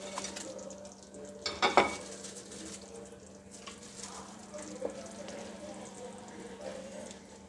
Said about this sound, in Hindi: अब मैं इसमें पकोड़े डालूँगी और इसको मिक्स कर लूँगी।